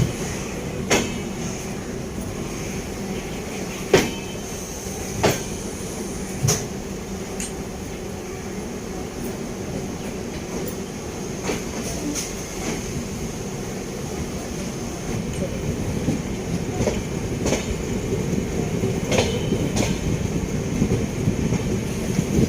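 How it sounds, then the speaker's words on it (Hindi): Amritsar–New Delhi Intercity Express rolling on the rails, a steady low rumble with periodic sharp clanks and knocks from the wheels and carriages, continuous and fairly close. "ये हमारा डिपार्चर अमृतसर से 3-4 मिनट लेट स्टार्ट हुई है ट्रेन"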